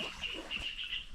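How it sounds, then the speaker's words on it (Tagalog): Birds near a rice field chirp in a thin, continuous high trill, faint and steady over a quiet outdoor background. "Nag-usap yung mga ibon mga idol."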